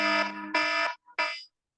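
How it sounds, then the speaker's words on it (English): A time's-up timer buzzer blares close and loud in harsh, tonal bursts: two long blasts, then a shorter third, followed by silence. "we're gonna have an alarm that sounds like this"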